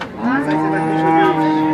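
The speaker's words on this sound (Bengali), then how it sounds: "এপাশে কিন্তু একটা গাভী গরু আছে" A single loud, close dairy cow moo at a cattle market, long and steady with a rich harmonic tone, filling the whole moment.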